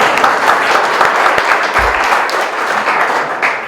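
Steady, dense audience applause fills a hall at an arts tribute event in San Antonio, close and loud with no break for the whole stretch.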